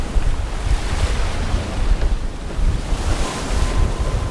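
Choppy sea waves slap and wash against a boat off the Dutch coast near offshore wind farms, with steady strong wind buffeting the microphone in loud, continuous surges.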